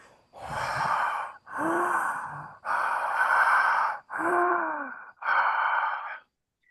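A man breathes heavily under a mask, five long drawn-out breaths with short pauses between them, close and fairly loud, each one rasping and hollow.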